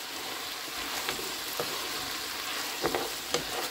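Pork curry sizzles and fries steadily in a pan, with a few soft scraping knocks of a spoon stirring through the meat at irregular moments, close and continuous with no talking.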